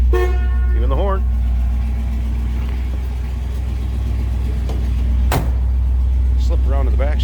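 Horn of a 1964 Chevrolet Impala two-door hardtop, one short blast partway through over a steady low engine idle, with someone talking before and after it.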